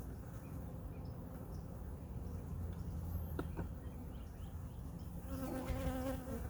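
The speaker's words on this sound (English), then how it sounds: "there's still a lot of bees in the box." Honey bees swarm in a nuc box, making a dense, steady buzzing hum up close, with a few brief higher tones near the end.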